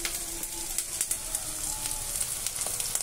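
Cashews, raisins and ginger-garlic paste fry in a pan, a faint steady sizzle with scattered small crackles and pops throughout, no voices over it.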